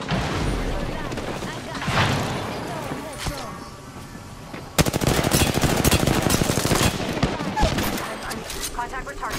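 Gunfire in the battle royale game Apex Legends: scattered shots and blasts at first, then a long rapid burst of automatic fire, with speech underneath.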